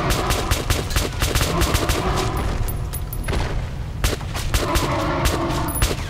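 Rapid gunfire from the video game Metro Last Light, with bursts of loud, close shots, a brief lull in the middle, then renewed firing layered over a low rumbling game ambience.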